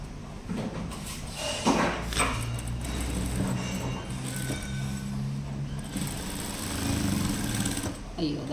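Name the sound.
sewing machine stitching a blouse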